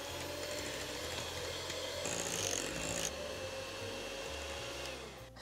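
An electric mixer whips a chocolate, cream and butter mixture for a yule log cake, giving a steady, fairly quiet motor whir that shifts pitch briefly midway.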